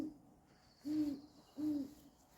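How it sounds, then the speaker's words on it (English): A mourning dove calls twice in the background, two soft, low hooting coos about half a second apart, moderately distant against a quiet outdoor backdrop. "a mourning dove."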